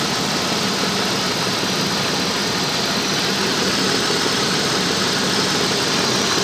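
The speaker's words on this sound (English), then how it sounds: "The final test to make sure the cooling fan comes on." A 1995 Oldsmobile with the 3800 engine idles steadily with its cooling fan running, a loud, continuous broadband whir and engine hum throughout with no voices.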